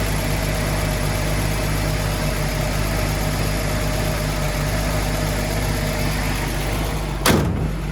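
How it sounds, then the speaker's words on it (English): An old Datsun Z car engine idles steadily up close, a loud, even, continuous rumble with a constant hum, broken near the end by a single sharp knock or thud. "Man, the engine just runs so good."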